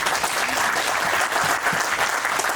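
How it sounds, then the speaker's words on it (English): An audience at a BTCC touring car race meeting at Thruxton applauds after a Q&A session, with a dense, steady burst of clapping from many people that fills the whole moment. "Everybody, round of applause."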